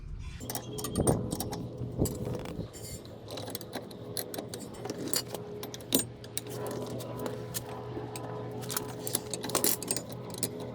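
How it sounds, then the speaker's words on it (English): Metallic clicks, clinks and ratcheting from a wrench tightening the inner tie rod on a 2002 Toyota Highlander, fairly close, with irregular rattling taps that go on without a break under a low steady hum. "So I'm going to be tightening the inner tie rod."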